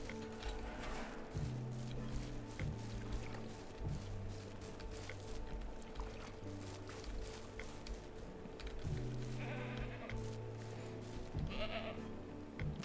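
Goat bleating in the farming video game Ranch Simulator, drawn-out bleats repeating at intervals over steady game ambience and music, with no talk.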